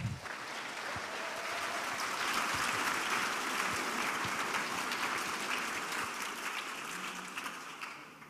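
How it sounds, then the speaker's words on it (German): Audience at a Chaos conference talk applauding to welcome the speaker, a full, steady round of clapping from a large hall, strong from the start and tapering slightly at the end. "Bitte einen warmen Applaus für Stefan Schumacher."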